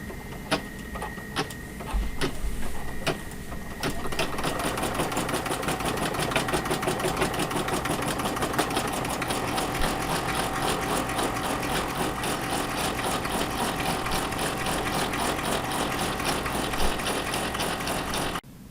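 Embroidery machine sewing a dense satin stitch around a design on a bag in the hoop, with a continuous rapid mechanical ticking and whirring that holds steady and close throughout, after a few scattered clicks at the start.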